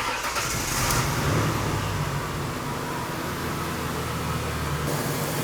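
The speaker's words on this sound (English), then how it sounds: "I'm going to turn on the engine, let the water pump circulate" A 4.0L V6 engine in a Ford Ranger cranks and catches, then settles into a steady low idle, with a broad hiss over it throughout.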